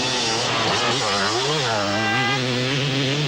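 A Honda France 250 enduro motorcycle pulls away at the 1997 Gilles Lalay Classic in France, its engine loud, close and buzzing as it revs and shifts steadily throughout.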